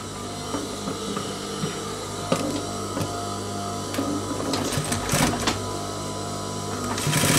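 A sewing machine stitches the back crotch seam of baggy trousers, a steady close mechanical whir with clicks and a few louder knocks, running on without talk.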